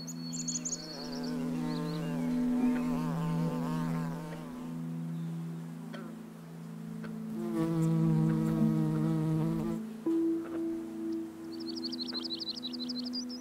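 Insects buzz among flowers, their drones rising and fading as they fly close, with higher whining wingbeats at the start and end and no voices.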